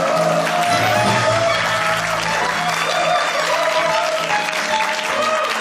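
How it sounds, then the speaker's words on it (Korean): A lecture-show audience applauds to welcome a psychology professor onto the stage, a sustained, loud wash of many hands clapping with a faint tonal music bed underneath throughout. "여러분 큰 박수로 맞이해 주시길 바랍니다."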